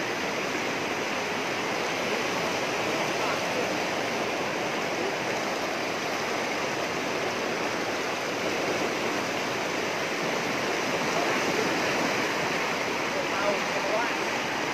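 Floodwater in Grobogan, Central Java, rushes with a steady, dense roar that does not let up. Voices can be heard faintly beneath the flow.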